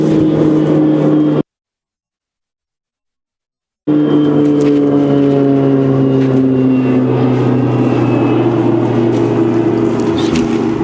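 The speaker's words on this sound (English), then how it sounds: "Aeroplane going to land just at one of the lodges down there." A steady droning light aircraft engine hums loudly with a slowly sliding pitch as the plane comes in to land at a game reserve lodge, briefly cutting to silence before the drone resumes.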